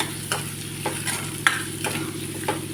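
Onions fry in a pan for hotel-style dal fry, with a steady sizzle under repeated spoon scrapes and stirring strokes, close and moderately loud.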